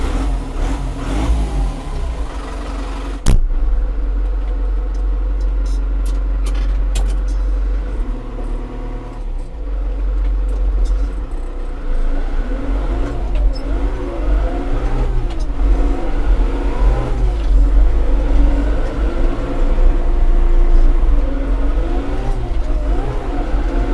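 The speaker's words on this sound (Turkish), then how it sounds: "Ben bir çalıştırayım traktörü." A Case JX90 Maxpro tractor engine starts with a sharp burst, then runs at a steady low rumble that rises and falls as the machine drives off, loud and close with no talk.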